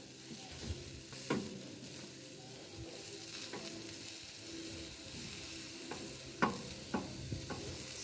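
Bacon frying on a barbecue grill on a sunny day, a steady soft sizzle with occasional sharper crackles and pops scattered throughout, fairly quiet and with no talking.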